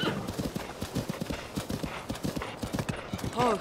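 A saddled horse gallops in the video game The Legend of Zelda: Tears of the Kingdom, with rapid, steady clip-clop hoofbeats throughout and a brief whinny at the end, and a voice talking over it.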